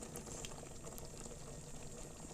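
A milk mixture for milk cake simmers in a kadhai over low heat, giving a soft, steady bubbling hiss that stays faint and even throughout, with no voices.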